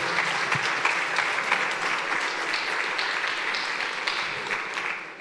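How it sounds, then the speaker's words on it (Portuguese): Sustained applause from a church audience, a dense steady patter of many hands clapping for about five seconds at moderate level, with no speech over it. "Dá uma salva de palmas aí."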